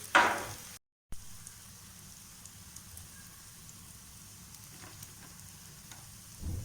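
Soya chunks shallow frying in a little oil, a soft, even crackling sizzle like light rain throughout, with a brief louder burst at the start and a short gap of silence.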